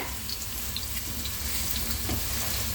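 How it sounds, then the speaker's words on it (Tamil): A steady, dense sizzle of fennel seeds and mustard seeds frying in hot oil, continuous and fairly loud, with faint crackles throughout. "பெருஞ்சீரகம் கடுகு போட்டு தாளிக்கிறேன்"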